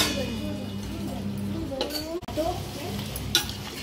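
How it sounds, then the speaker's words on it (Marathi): Marinated mutton with curd, garam masala and ginger-garlic paste tipped into hot tempering for Konkani mutton vade, a close sizzle with clinks of a utensil against the pan and a brief voice partway through. "आता ते फोडणीत टाकायचं"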